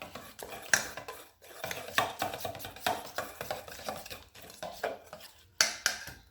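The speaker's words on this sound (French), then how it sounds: "Toujours pareil, on mélange." Grated aubergine pulp being stirred in a bowl, quick clinking and scraping of a utensil against the dish in uneven strokes, close and moderately quiet, without speech.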